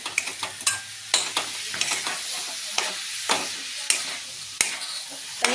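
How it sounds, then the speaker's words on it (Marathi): Grated fresh coconut and sugar being stirred in a pan over low heat, with repeated scraping strokes of a spoon against the pan and a soft, steady sizzle underneath. "आता त्यामध्ये लगेच ते आपण चांगलं किसामध्ये मिक्स करून येणं असं एकसारखं हलवून घ्यायचं आहे"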